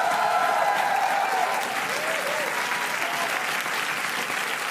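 A studio audience on the German late-night show Neo Magazin gives sustained, loud applause welcoming sidekick William Cohn, steady clapping throughout with a brief tonal musical flourish underneath at the start.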